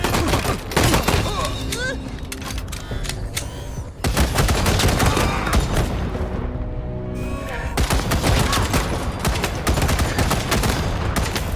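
Gunfire rattles in the video game Wasteland 3, dense bursts of shots firing almost without pause, loud and close. A short lull comes midway before the volleys resume.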